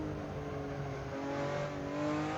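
Ruf RT12R on the Salzburgring under throttle, its engine a steady, moderately faint drone heard from inside the car, with the pitch rising slightly toward the end.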